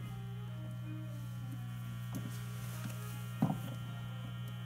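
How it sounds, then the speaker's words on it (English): Steady electrical hum from an old radio or phonograph in a radio and technology museum, a constant low drone throughout with a few faint clicks and handling noises over it. "You can hear the hum."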